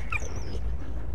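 The dog companion in the World War I game Valiant Hearts: a brief, high, wavering whimper lasting under half a second, fairly faint over a low rumbling background.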